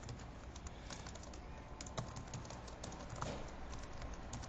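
Quiet, irregular clicking of keys on a computer keyboard as an address is typed in, a soft run of close taps over faint room noise.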